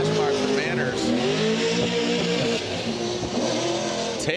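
A Pro 2 drift race car at Texas Motor Speedway roars at sustained high revs with a steady, loud engine drone, tire noise mixed in, and a commentator talking over it throughout.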